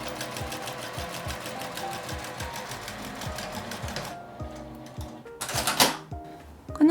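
Sewing machine stitching a fabric pot holder with a magnet inside, a fast rhythmic needle chatter for about four seconds, then stopping, followed by a short rustle of fabric handling.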